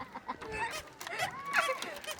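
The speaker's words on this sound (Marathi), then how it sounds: "हा बदक आहे बदक" Nasal, honking duck calls rise over a busy background, a few raspy quacks.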